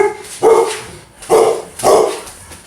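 Big Labrador dog barking three loud, deep woofs close by at roughly one-second intervals, nobody speaking over them.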